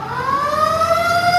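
A fire truck siren wails steadily and loudly with rising tones, the wail sweeping upward over constant traffic and engine rumble, heard close and without talk.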